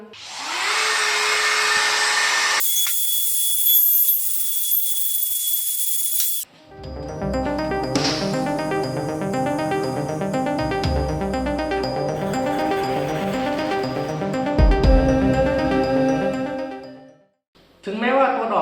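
A DeWalt DCE555 multi-purpose cutter, a tool made for wood, plastic, ceiling board and aluminium, gives a harsh hissing burst, then a long, steady, buzzing motor whine while cutting, loud and close with a brief pause near the end.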